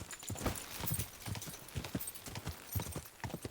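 Horse hooves clip-clop steadily in Kingdom Come: Deliverance II, a brisk irregular trot of close, soft thuds continuing throughout with no talking over them.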